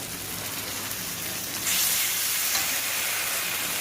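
Spice paste of turmeric, ginger, cumin and green and dried chilli fries in a pan with a steady crackling sizzle, which brightens and grows louder partway through, heard close with no talk.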